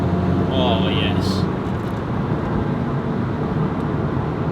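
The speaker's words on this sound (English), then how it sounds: "So hopefully you can hear the supercharger." A Lotus Elise 220 Cup with a supercharged Toyota 2ZR 1.8 litre engine drones steadily from inside the cabin at speed, a dense continuous engine and road roar with a brief whine early on, while someone talks.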